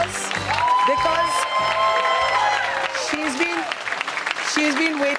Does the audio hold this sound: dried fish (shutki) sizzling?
no